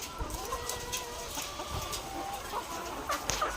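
Backyard pet chickens cluck softly and sporadically at a moderate distance, with scattered short calls over a quiet background.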